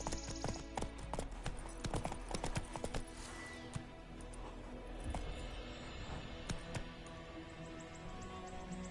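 Horse hooves in The Witcher 3 video game clop in a quick, steady rhythm of sharp, faint knocks, with a soft ambient bed beneath and only a brief trace of voice.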